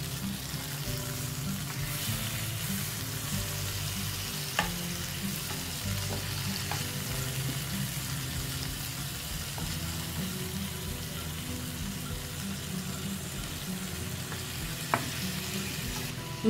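Fish pieces fry in a pan, turned to brown on both sides. A steady, fairly quiet sizzle runs throughout, broken by a couple of faint clicks and taps, with no voices.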